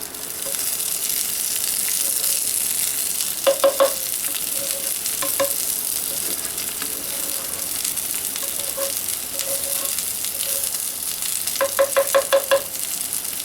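Eggs fry in sausage grease in a pan on a soda can alcohol stove, giving a steady soft sizzle throughout, with a few brief bursts of louder scraping and stirring as the pan is moved around.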